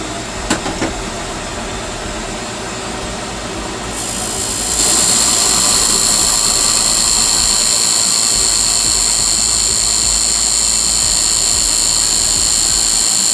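A wood lathe spinning while a chess king piece is turned and finished, a loud steady high whine and whir that swells partway through and then holds, with no talk.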